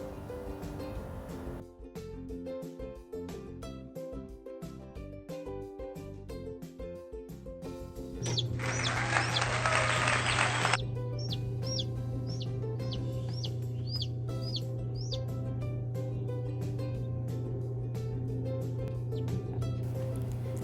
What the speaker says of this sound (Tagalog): maswerte naman po akong nai-record ang pagpipisa ng ating mga itlog